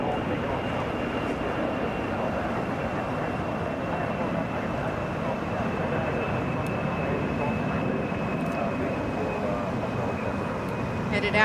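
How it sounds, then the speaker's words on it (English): A Delta Airlines Airbus A319 departs Hartsfield-Jackson Atlanta airport with a steady, broad jet roar heard from a distance that holds evenly throughout, with a person talking over it. "that is Delta Airlines Flight 801, Atlanta to Montreal. That's an Airbus A319"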